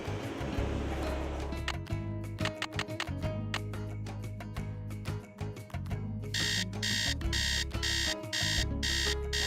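Rapid electronic beeping from an alarm clock in the Nancy Drew video game Secret of the Scarlet Hand, a steady repeating pulse that pauses briefly, then resumes louder and brighter.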